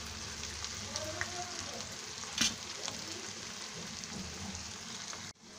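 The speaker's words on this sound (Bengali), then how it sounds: "সব দিকে সমানভাবে ভেজে নিয়েছি এবং এটা বেশ গোল্ডেন ব্রাউন কালার হয়ে গিয়েছে" Vegetable chops shallow-frying in a little oil until golden brown, giving a quiet, even sizzle close by with a few faint utensil taps and one brief louder scrape before it cuts off abruptly; no speech.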